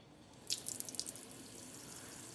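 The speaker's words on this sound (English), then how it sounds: "So I'm going to turn on the water on the fine mist." A kitchen tap switched to a fine mist setting comes on with a few quick splashing drips, then settles into a soft, steady hiss of spraying water, faint and fairly close.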